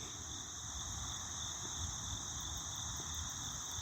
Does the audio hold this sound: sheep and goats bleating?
no